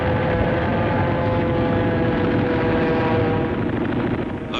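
Steady, droning aircraft engines roar continuously during a heavy air raid on U.S. ships off Iwo Jima, a loud dense rumble with no breaks.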